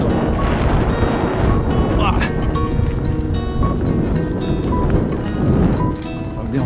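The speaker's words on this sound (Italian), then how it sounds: "Vento." Strong wind buffets the microphone while riding along a dirt track through woods, a loud continuous roar and rumble throughout, with faint voice fragments underneath.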